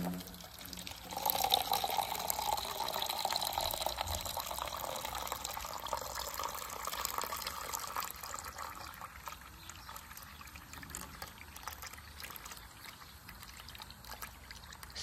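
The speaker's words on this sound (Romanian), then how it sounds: "Strânge și mie rubinete aici" Water runs steadily from a tap at home, a continuous trickling flow that swells early on and then settles into a softer, even stream, close by with no talk over it.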